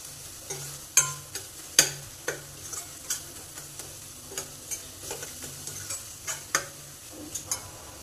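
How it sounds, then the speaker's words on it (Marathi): Onion and tomato frying in oil, stirred repeatedly: a soft, steady sizzle runs under quick, irregular clinks and scrapes of a spoon against the pan, close by, with no speech. "हलवून घ्या, तेल सुटेपर्यंत हलवून घ्यायचं"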